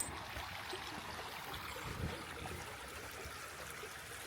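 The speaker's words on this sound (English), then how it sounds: "here's another area you can go see the creek." Creek water trickling and flowing steadily along a hiking trail in Boring, Oregon, a soft continuous wash heard alone at low level.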